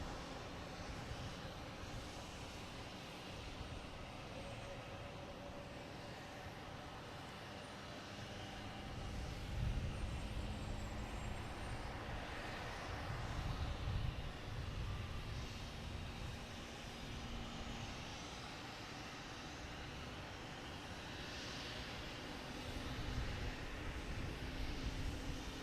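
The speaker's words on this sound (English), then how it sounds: "And now we have British Airways King A380 coming in from London Heathrow." A British Airways Airbus A380 arriving from London Heathrow at Boston Logan Airport, its broad engine roar rumbling steadily at a distance and swelling slightly twice as it approaches.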